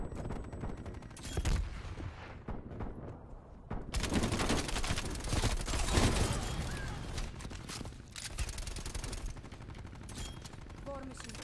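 Weapon fire from the War Machine grenade launcher in Call of Duty Cold War, a dense barrage of bursts and blasts layered with other game noise and occasional talking throughout.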